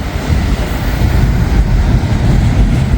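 A freight train's distributed power locomotives work hard, giving a loud, continuous low rumble and roar that holds steady without any talking.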